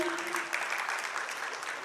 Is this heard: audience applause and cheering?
yes